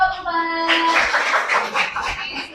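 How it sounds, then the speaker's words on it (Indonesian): A group receives applause in an Islamic education classroom, a brief burst of clapping from several people after a held tone, dense and fairly loud for a couple of seconds. "beri tepuk tangan untuk kelompok"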